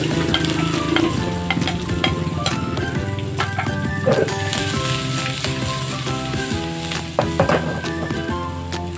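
Garlic and onion frying in hot oil for a simple tom yum soup, a loud continuous sizzle with crackle, scraping stirs and occasional utensil clinks against the pan, steady throughout, no talk.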